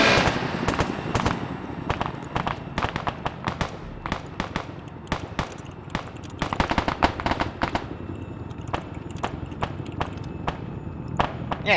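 Video game gunfire rattles in rapid bursts of sharp shots, some clustered like automatic fire and others spaced apart, carrying on steadily at moderate loudness throughout.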